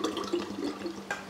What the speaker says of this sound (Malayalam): അപ്പം നമുക്കിതാ ഇത് ഇതിലേക്ക് അങ്ങോട്ട് ഒഴിക്കുക,